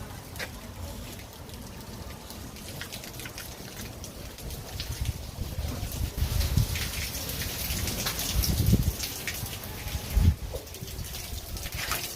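Rain falls steadily outdoors in Pasacao, Philippines, a broad hiss of drops with heavier patters and a couple of louder thumps, lasting the whole stretch without talk.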